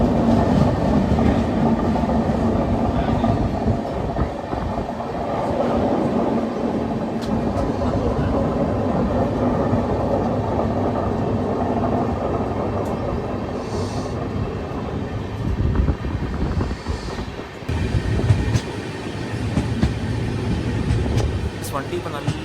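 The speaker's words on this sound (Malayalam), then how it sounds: "വണ്ടി ഇപ്പോൾ നല്ല സ്പീഡായിട്ടുണ്ട് കേട്ടോ" An Indian Railway passenger train running at speed toward Coimbatore, heard from inside as a steady loud rumble and rhythmic rail clatter throughout, with someone talking over it.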